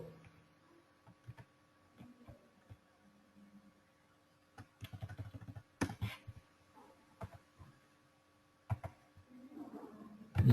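Keys tap on a computer keyboard in short irregular bursts, with a few louder clusters and pauses between them, against a faint steady electrical hum.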